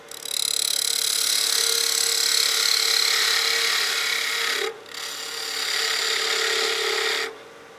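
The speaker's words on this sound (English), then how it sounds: "I'll be primarily using the 3/8 spindle gouge to get in there" A 3/8 spindle gouge cuts into spinning wood on a lathe while a wine glass is turned, a steady, loud, hissing rasp that breaks off briefly twice before resuming.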